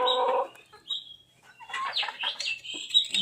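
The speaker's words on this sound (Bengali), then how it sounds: "এটা হচ্ছে টাইগার মুরগি" Tiger breed chickens raised for eggs and meat cluck close by in several short, uneven bursts, with a sharper squawk near the end and no one talking.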